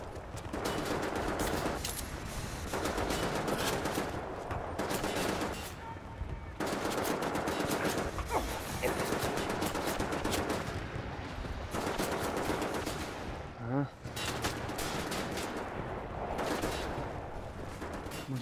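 Sustained heavy automatic gunfire from a mounted machine gun turret in Wolfenstein The New Order, loud continuous bursts with short pauses, a brief clatter near the end.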